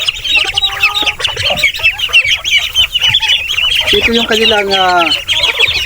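Peking ducks on a farm being fed, a busy chorus of bird calls and clucking-like cries with someone talking over it.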